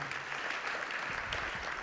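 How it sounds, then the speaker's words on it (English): An audience applauds at an event on Houston's economy, a steady wash of clapping filling the short stretch with no talk over it. "how about one more round of applause?"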